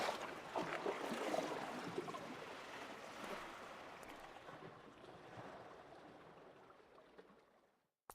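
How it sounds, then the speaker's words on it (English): Water flowing in a Minecraft-style crafting game, a steady soft rushing wash that gradually fades away toward silence, heard alone without voices. "I hear water flowing."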